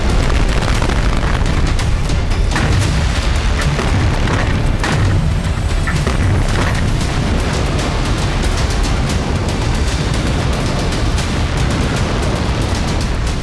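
Missile strikes hit residential areas and highways in southern Israel, heard as continuous loud, rumbling booms and blasts with crackling bursts throughout, dense and chaotic as in news footage.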